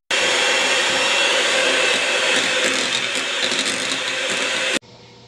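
An electric mixer runs steadily and loudly for about five seconds, beating egg yolks into cake batter for a chocolate mousse cake, then cuts off abruptly, leaving only faint room noise.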